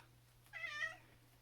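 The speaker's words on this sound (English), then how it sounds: "So there's going to be meowing through this vloggy thing." A single clear cat meow, one drawn-out call of about half a second, close and fairly quiet against a faint steady hum, with no talking.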